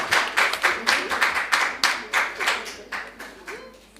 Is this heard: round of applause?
yes